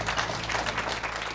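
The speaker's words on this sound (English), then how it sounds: "We would like to give our panelists a round of applause." Brief burst of audience applause for health fair panelists, a short, fairly faint patter of many hands lasting just over a second.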